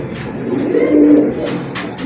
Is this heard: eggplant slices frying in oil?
no